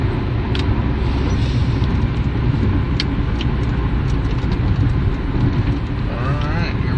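A pickup truck merges onto the interstate with a broad, loud engine and road roar, wind and tire noise washing over it and brief faint squeaks; someone talks briefly over the drive.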